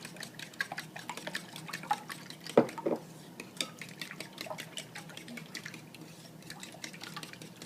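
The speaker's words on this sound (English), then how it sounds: "To that, we're going to add a cup of milk or buttermilk," Milk or buttermilk is poured into beaten eggs in a bowl, producing soft close splashing and dripping liquid sounds with light clinks of the bowl, fairly quiet and uneven throughout.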